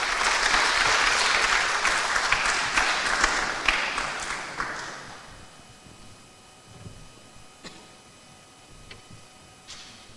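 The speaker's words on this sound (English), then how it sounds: "Please give a round of applause for Dr." A seminar audience applauds the speaker with several seconds of lively clapping that thins out and fades, leaving a quiet room with a few scattered claps and small clicks.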